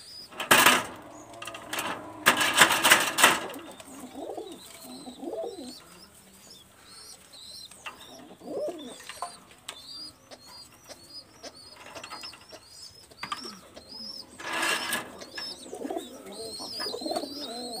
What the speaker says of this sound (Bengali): রয়্যাল টেডের একটা নর কবুতর এবং একটা ছালারা জেনারেশনের একটা ফিমেল কবুতর।